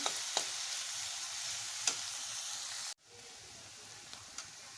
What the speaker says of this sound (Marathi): कांदा व्यवस्थित शिजू द्यायचा व्यवस्थित लाल झाला की नंतर मी आता भाजी घाल त्यामध्ये